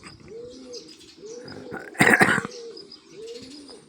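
Pigeons coo softly in repeated low calls while sparrows chirp nearby, and a brief rustle or flutter of wings rises in the middle.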